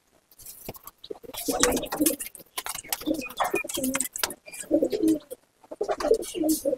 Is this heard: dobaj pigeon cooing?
yes